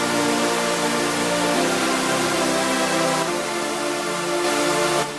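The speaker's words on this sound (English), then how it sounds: "a fruity phaser with these specific settings" A stack of saw-wave synth chords in FL Studio, brightened and lifted by the Fruity Phaser, plays as dense sustained harmony for about five seconds with a chord change partway through, loud and alone without talk.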